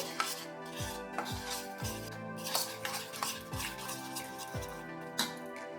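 Curd and roasted besan marinade for paneer tikka being stirred in a bowl, with repeated scraping, clinking strokes of a spoon against the dish in a steady rhythm, close and moderately loud.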